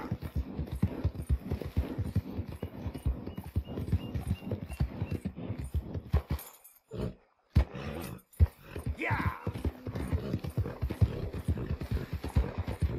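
Horse hooves clip-clop steadily in Red Dead Redemption 2, a brisk continuous trot that pauses briefly for a whinny before resuming, close and prominent.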